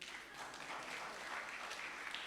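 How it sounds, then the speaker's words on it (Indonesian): Quiet applause from a church congregation during a sermon, a soft, even patter of clapping heard at a distance with no voices on top. "Ya boleh tepuk tangan."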